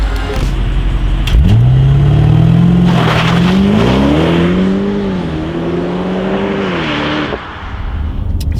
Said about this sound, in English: we are going to try launch control on the B7